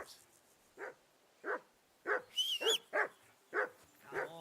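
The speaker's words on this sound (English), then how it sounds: "I assume you can hear that damn dog of yours barking." A dog in Kingdom Come Deliverance 2 barks repeatedly, about seven sharp barks at a steady rhythm roughly every half second to second, fairly close and clear against a quiet background with a brief high tone midway.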